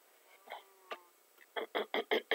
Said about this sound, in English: See that bee?